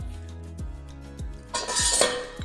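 A metal spoon knocks and scrapes against a cake pan in a steady rhythm while spreading crumbs for a no-bake cheesecake base, then a louder, gritty scraping takes over near the end.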